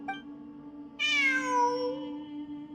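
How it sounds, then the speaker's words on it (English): Cat in the Genshin Impact video game gives a single clear, drawn-out meow that starts abruptly and trails off slowly, heard over a quiet steady hum. "I'm not hearing things. It really is a cat."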